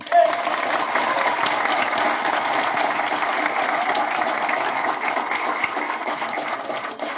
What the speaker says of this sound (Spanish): Por eso debemos darle un fuerte aplauso a Logan.